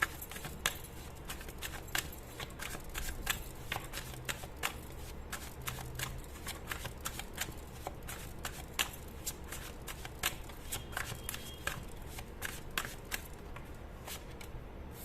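Tarot cards being shuffled by hand, a steady run of crisp riffling flicks and slides over about fifteen seconds, close and fairly quiet, with no talking.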